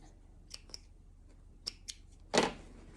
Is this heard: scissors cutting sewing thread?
yes